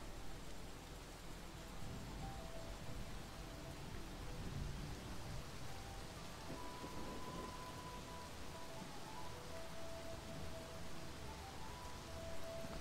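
Steady rain hisses throughout with soft low rumbles underneath, a continuous wash of noise with no voices, from the video game XING: The Land Beyond.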